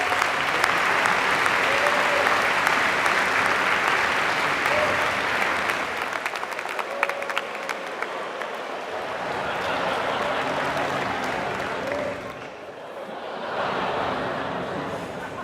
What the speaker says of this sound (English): Please join me in another round of applause for this committed group of student leaders.